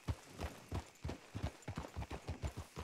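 Horse hooves clip-clop at a steady riding pace in a Western video game, a run of soft, even, close thuds with no talking over them.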